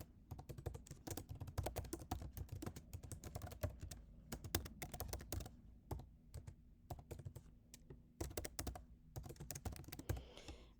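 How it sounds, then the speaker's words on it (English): Quick, steady typing on a computer keyboard while writing an email reply in Apple Mail, a close run of light clicking keystrokes with short pauses between bursts. "type my email"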